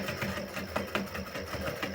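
A sewing machine stitches a seam on a sling bag, running as a steady rapid mechanical chatter with a faint pulse, close up and alone.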